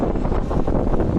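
Steady wind buffeting the microphone at an amusement park, a loud low rumbling roar that holds throughout without any talking.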